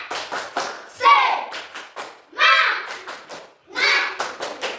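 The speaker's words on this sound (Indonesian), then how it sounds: "1, 2, 3. Tepuk semangat." A school class performs the rhythmic 'tepuk semangat' clap, sharp close group claps in a patterned beat, with children's voices chanting between the bursts.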